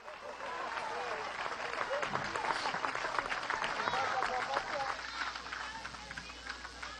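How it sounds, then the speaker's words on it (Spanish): An outdoor political crowd at a government event with local supply committees in Vargas applauds the first lady, with dense, continuous clapping and faint crowd noise sustained for several seconds. "Un aplauso a la primera combatiente"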